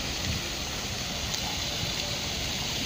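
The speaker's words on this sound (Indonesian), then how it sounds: "Di sini lagi hujan" Steady rain falling outdoors over a city street in Manchester, a continuous broadband hiss with soft patter and no clear breaks, moderately loud and constant throughout.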